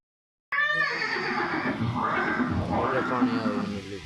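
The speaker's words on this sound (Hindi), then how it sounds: "ये दृश्य महाराणा प्रताप और सुविख्यात स्वामी भक्त घोड़े चेतक के अंतिम मिलन का है।" A horse neighs loudly and close after a brief silence, a long quavering whinny that wavers on for several seconds, presented in a scene of Maharana Pratap's horse Chetak.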